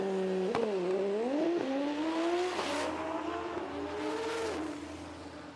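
A 1977 Datsun 280Z race car makes a drag racing run, its engine revving hard with rising pitch through quick gear changes, loud and fairly close, then fading slightly as it pulls away.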